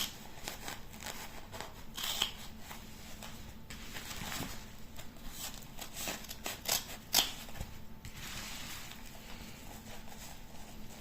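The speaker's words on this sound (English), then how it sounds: "I just fold it over and then just snip through to start with and get my scissors in." Scissors snipping through folded fabric layers while cutting a body warmer welt pocket, a series of close, crisp, irregular cuts and rustles with short pauses between them.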